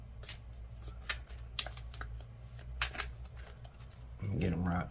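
Close-up shuffling of a tarot deck, repeated papery riffles and taps over a steady low room hum, with a voice rising briefly near the end.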